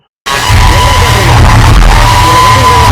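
Cinema audience at a Padaiyappa re-release screening erupts into loud yelling, whooping and cheering, a dense sustained roar that bursts in after a brief silence and holds steady to the end.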